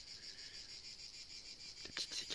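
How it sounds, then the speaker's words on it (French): Small cicadas singing outdoors on a summer morning, a steady high buzzing drone running continuously, with a few brief louder clicks and rasps near the end. "Les petites cigales commencent à chanter."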